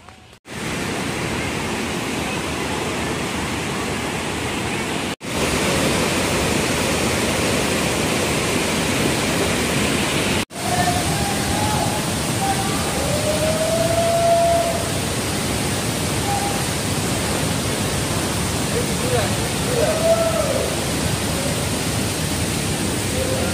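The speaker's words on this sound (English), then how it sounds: "Gikit Waterfall." Steady, broadband roar of Git-Git waterfall in Bali, a dense continuous wash of falling water that fills the scene, with a few faint high tones over it and brief dropouts.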